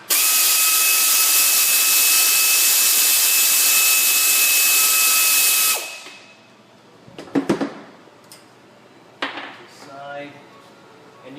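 A power drill whirs loudly and continuously for about six seconds while pulling a 10mm brake caliper bolt on a 2007-2014 Ford Edge, then stops, followed by metallic clinks and handling noises nearby.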